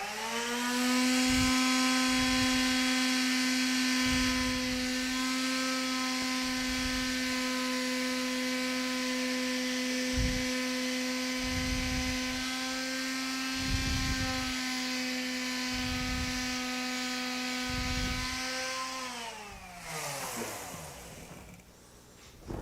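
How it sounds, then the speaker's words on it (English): An electric palm sander runs steadily on a wooden Shaker-style chest of drawers, a loud continuous whine with a strong hum, then winds down near the end as it is switched off. "there's going to be a little noise, is I'll just sand it with a palm sander"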